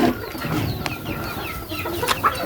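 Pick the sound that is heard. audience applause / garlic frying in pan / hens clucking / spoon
hens clucking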